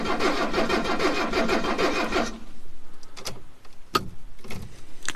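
An old Mercedes diesel that sat in a garage for 20 years cranks over loudly with a rapid, even starter churn for about two seconds without firing, followed by a few sharp clicks and clunks.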